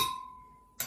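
A metal spoon adding ashwagandha powder to a glass blender clinks with a bright ringing tone that fades, then a second quick clink.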